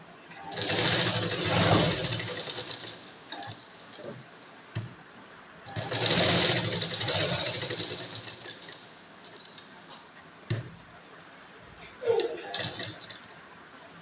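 A sewing machine stitches a velvet blouse in two long loud runs of rapid whirring, each a couple of seconds long, with shorter bursts and handling clatter between them.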